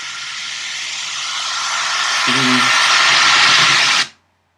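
Sound effect samples, a riser and an impact, play back in a music mix: a bright, hissing sweep swells steadily louder for about four seconds, with a low tonal thump partway through, before cutting off sharply.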